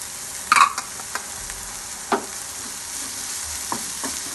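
Soft stirring and light sizzling of ginger-garlic paste frying in a pan, with a few scraping clinks and quiet clatter against a low frying hiss.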